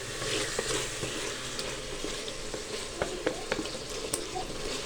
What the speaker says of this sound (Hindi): गोश्त को मिक्स करते हुए हमें 2 मिनट हो चुके हैं।